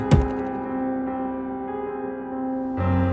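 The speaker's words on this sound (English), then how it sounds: "it shuts with a loud thud" An elevator door shuts with one sharp, heavy thud at the start, followed by a sustained resonant hum that lingers and shifts near the end.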